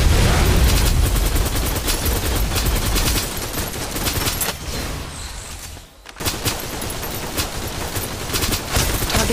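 Sustained automatic gunfire in the shooter game Snowbreak: Containment Zone, dense rapid bursts close up, easing briefly with a short pause before resuming at full intensity.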